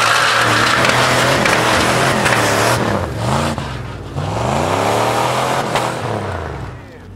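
Toyota Prado 150 off-road SUV engine revving hard while driving off-road, loud and close, pitch climbing and falling through several rev sweeps, with faint talk under it.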